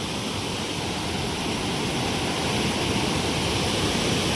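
Loud, steady roar of water rushing over the spillway of the overflowing Khodiyar Dam, a dense continuous wash of noise with no break throughout.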